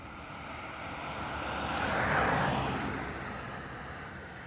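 A jet aircraft rolls down runway 28 right at Dublin Airport for takeoff, a broad steady roar that swells to a peak midway and then eases, heard from a distance with no voices.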